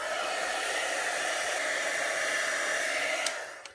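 A heat gun melts gold embossing powder for a quick patina, giving a steady, loud blowing whoosh that holds evenly for several seconds before easing off, with no talking.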